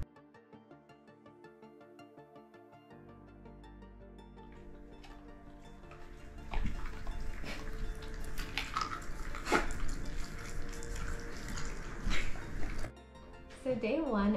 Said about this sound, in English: I'll be right back while I go brush my teeth